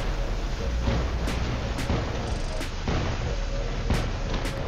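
Shotguns on combat robots fire repeatedly in the War Robots video game, a series of booming blasts at irregular intervals over a dense, constant background of battle noise.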